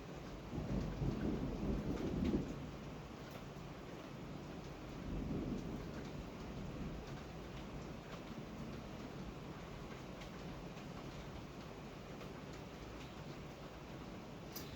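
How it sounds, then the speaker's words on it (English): Heavy rain pours steadily with a constant hiss, while low rolls of thunder rumble in the distance early on. "And I hear the rain starting. It is pouring."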